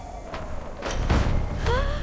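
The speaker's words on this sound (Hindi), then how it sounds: "दरवाजा बंद हो गया।" A door slams shut with a heavy thud, followed by a low rumble and faint whistling tones in the background.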